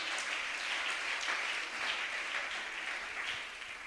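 A church congregation applauds to acclaim Jesus at a Pentecost service, giving a steady, dense round of clapping from many hands that continues throughout and fades slightly at the end.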